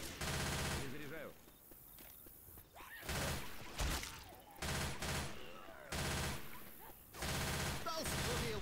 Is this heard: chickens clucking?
no